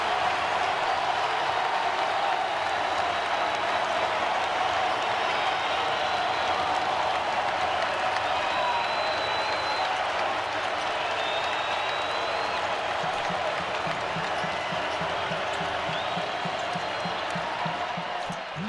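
Crowd at a Tennessee versus Vanderbilt college basketball game cheering and applauding after a three-pointer, a sustained arena roar with a commentator talking over it and ball bounces late on.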